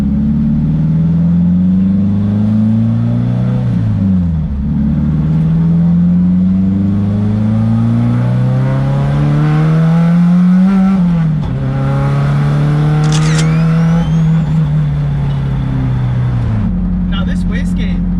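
A Nissan SR20 engine with an HKS wastegate revs hard at full boost, pitch climbing and falling through several loud pulls and gear changes, close and dominant, with a brief whoosh partway through.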